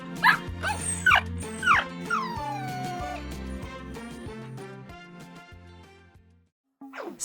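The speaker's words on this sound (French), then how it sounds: "Mais j'aime Pépé le chiot et il m'aime aussi" A cartoon puppy sound effect from a children's story yelps, whines and growls in several short, squealing bursts over a steady musical backing, which then fades out before a final brief yap.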